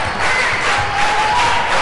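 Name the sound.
crowd noise in a packed high school basketball gym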